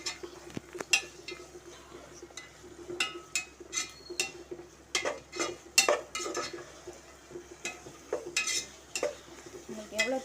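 Biryani masala being stirred in a pan with a metal spoon, irregular scraping and clinking strokes over a soft sizzle, close and fairly quiet.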